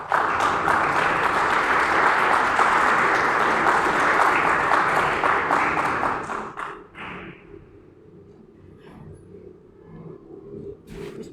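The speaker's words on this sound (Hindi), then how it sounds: "आपकी भरपूर तालियों में" An audience at a district-level elementary-wing prize distribution ceremony claps in dense, sustained applause for about six seconds, then it thins out to a few scattered claps and quiet room noise.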